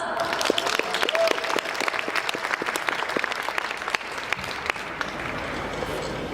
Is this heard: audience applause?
yes